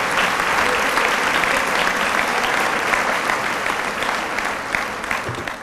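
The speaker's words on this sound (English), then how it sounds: "Another round of applause for all these nominees." Strong, continuous applause at an awards dinner honoring high school award nominees, a dense wash of clapping from a large audience that stays loud and steady.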